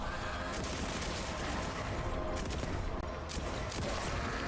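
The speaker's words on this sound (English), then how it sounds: "it's the powered up bolt gun" A powered-up bolt gun fires in Warhammer 40,000: Boltgun. The shots form a dense, unbroken roar of rapid gunfire that stays loud and steady throughout, with no talking.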